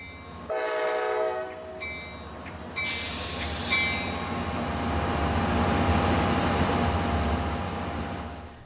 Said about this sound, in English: the exhibit train departed Jackson for its next stop, Milwaukee, Wisconsin